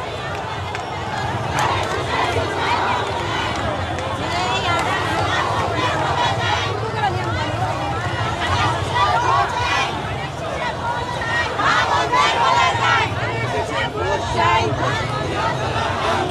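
Crowd at a BNP rally in Bangladesh marking National Revolution and Solidarity Day, a continuous loud mass of chanting and crowd noise from marching party members throughout, with a commentator's voice over it.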